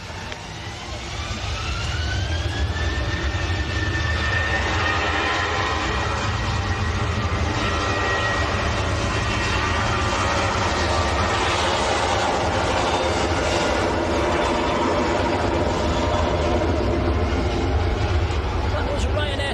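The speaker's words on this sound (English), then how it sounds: "That was Ryanair to Toulouse, an 800 series 737." A Ryanair Boeing 737-800 bound for Toulouse taxis at Manchester Airport, its jet engines producing a loud, steady whine and roar that holds throughout, with rising tonal sweeps early on and talk faintly underneath.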